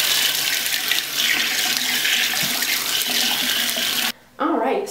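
A water tap runs steadily into a sink while a makeup brush is rinsed, a loud, close rushing stream that briefly stops near the end before flowing again, with a voice faintly audible in the gap.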